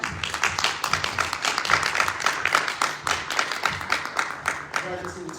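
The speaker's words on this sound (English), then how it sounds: "Could we please give them a round of applause for coming?" An audience at a township supervisor candidates' forum applauds steadily for several seconds, a dense wash of clapping from a room full of people with murmuring voices mixed underneath.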